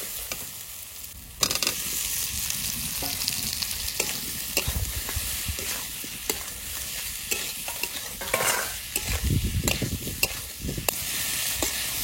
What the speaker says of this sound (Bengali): মশলা ভালো করে কষিয়ে নিয়েছি, এবার এঁচোড় দিয়ে দেবো